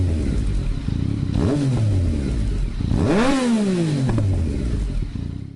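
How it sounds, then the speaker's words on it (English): A triple-cylinder motorcycle engine revs hard twice, pitch climbing and falling each time, with a raspy exhaust note close and loud over a steady idle. "also has a very nice unique exhaust sound"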